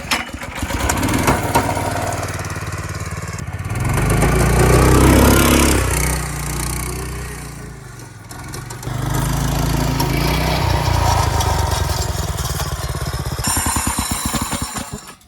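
A small go-kart engine is pull-started and revs up, a loud rough buzzing drone that surges and dips over about fifteen seconds, close by with no talk over it.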